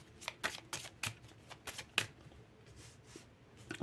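Tarot cards are laid out and shuffled in a rapid run of soft, papery snaps and flicks, close and fairly quiet, with several sharper slaps in the first two seconds and lighter ones trailing off.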